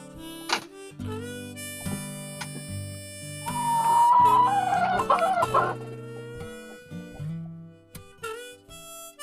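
Free-range village chickens kept for growing out in a raised stilt coop, with a rooster crowing loudly up close among repeated hen clucks and cackles, alone without talk.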